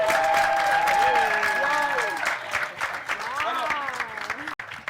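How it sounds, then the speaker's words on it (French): Audience applause at a French film screening and debate, sustained and fairly loud for several seconds, with a person speaking over the clapping and tapering toward the end. "On applaudit pour elle."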